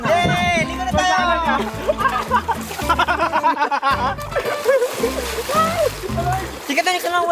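People bathing throw and splash water with loud, repeated splatters, mixed with lively talk, shouts and laughter close by.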